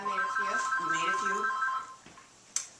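A telephone rings with a repeating electronic tone through the first two seconds, mixed with children and adults talking in a craft class, then drops away before a brief sharp knock.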